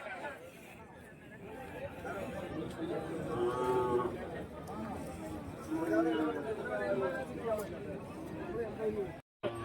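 Cattle, including bulls, moo a few times over busy crowd chatter at the Kuntharapalli cattle market in Krishnagiri district, India, with people talking nearby amid the general bustle.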